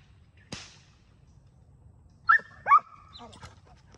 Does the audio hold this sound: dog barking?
yes